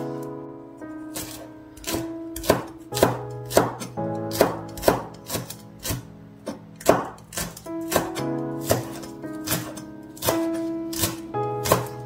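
Green onion chopped with a knife on a cutting board, a run of sharp, evenly spaced thuds close by, about two per second, alone without speech.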